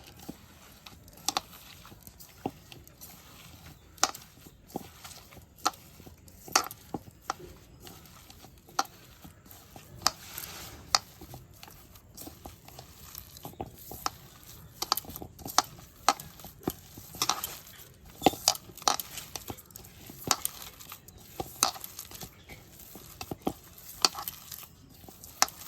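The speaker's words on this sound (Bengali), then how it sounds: "ব্রেডটা ভালো করে ছেনে নিব। আটা যেরকম ডো বানায় সেরকমভাবেই" Bread dough for gulab jamun is kneaded by hand, giving soft, irregular squishes and pats, quiet and close, with no talk.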